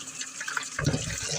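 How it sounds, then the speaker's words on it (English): An apple rinsed under a running kitchen tap, water splashing steadily that turns fuller and more gushing partway through as the fruit meets the stream, close and without voices. "And now we're washing our apple."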